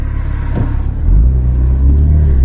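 A newly bought glossy black car accelerating from inside the cabin: a steady low engine drone that swells into a deeper, louder rumble as the car pulls away, continuous and close.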